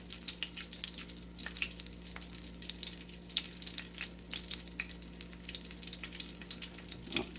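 Pieces of beer-battered cod fry in avocado oil with a soft, steady crackle and scattered small pops. The sizzle stays fairly faint and close, with no voices.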